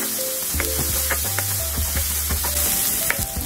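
A medium tomato stir-fries with garlic and onion in a hot pan, a dense close sizzle broken by repeated spatula scrapes and taps, with a low hum underneath and no talking.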